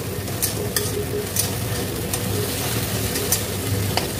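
Onions fry in a pan until reddish, a dense continuous sizzle close by with scattered scraping clicks of a spatula stirring them, no voices.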